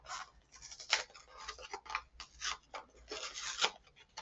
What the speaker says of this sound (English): the flap is like tearing itself apart as I'm trying to open it